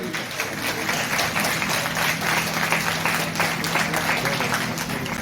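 Audience at a state-level medical women's forum conference in Punjab breaks into steady, dense applause that fills the hall throughout, with no speech over it.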